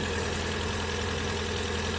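A 2005 Kia Morning LX car engine idles steadily, a continuous low, even hum heard up close with no talk over it.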